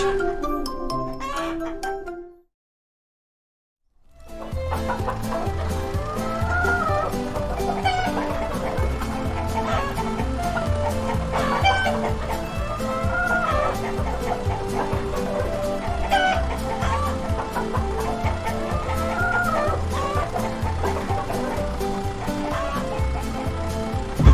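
Chickens cluck repeatedly in a children's cartoon over steady background music, after a short gap of silence near the start.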